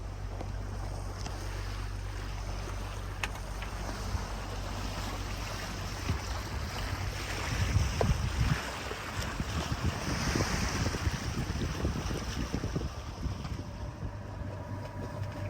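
A sailboat motoring at sea between Greek islands near Kos in light wind, its engine a low steady drone under wind buffeting the microphone and the wash of water along the hull.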